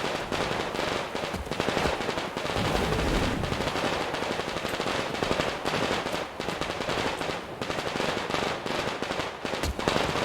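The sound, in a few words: gunfire in the video game Metro Exodus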